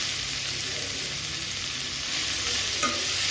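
Onions sautéing and being stirred in a pan for Tamil-style chicken varuval, a steady close sizzle of frying with soft scraping stir strokes throughout, no talking.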